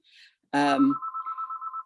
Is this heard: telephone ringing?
yes